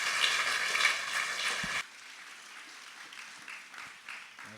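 Applause from a church congregation at a Sunday worship service, a dense burst of clapping that cuts off sharply after about two seconds, leaving a quiet murmuring room.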